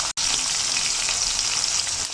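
Pieces of bata fish fry in hot oil in a kadai, giving a loud, dense, steady sizzle that runs the whole time. There is one brief gap near the start, and no one speaks.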